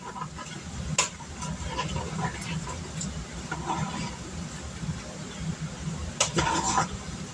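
Food being stirred and mixed with a wooden spoon in a home kitchen, a steady scraping, shuffling sound with a few sharper clinks, heard fairly close over a low background hum.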